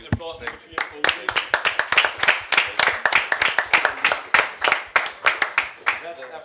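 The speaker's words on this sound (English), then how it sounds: "Applause in between for Rudy." A small audience at a Hamburg business talk claps steadily for several seconds, dense, close hand claps forming a lively round of applause.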